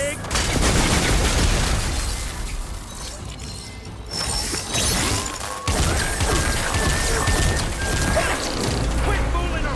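Bursts of enemy gunfire and crashing impacts in Horizon Forbidden West combat, loud and dense with rapid volleys, a brief drop near the middle, then more shooting.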